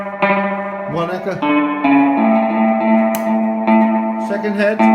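A Binson Echorec tape-free drum echo unit set to a single echo head, repeating a sustained instrument tone with a distinct echo trail; loud and steady, with no talking.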